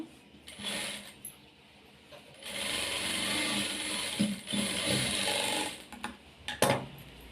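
A domestic sewing machine runs in steady mechanical bursts while stitching the shoulder seam of a nighty, with short pauses and clicks between the longer whirring runs.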